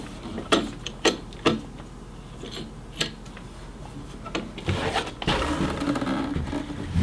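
An ACOG sight mount opening and clamping onto the top rail of an M249: a few close sharp metallic clicks and ratcheting snaps, followed by softer handling rustle and a brief grinding scrape.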